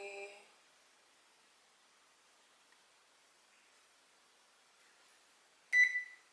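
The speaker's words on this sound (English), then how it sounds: "I'm going to turn the oven on bake at 220. So I'm going to scroll it down to 220." Oven control panel beeps while the bake temperature is set: one electronic beep at the start and another about five seconds later, both close and clear over near silence, with nobody talking.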